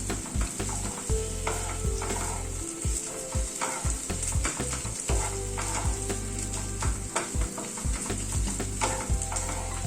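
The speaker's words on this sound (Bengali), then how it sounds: "গ্যাসের ফ্লেমটাকে মিডিয়ামে রেখে মশলাটা একটু কষিয়ে নেব।" Ginger, garlic, onion and green chilli masala for a Coorg-style paneer curry fries over a medium flame. An even sizzle runs with frequent spoon scrapes against the pan over a low steady hum, and no one speaks.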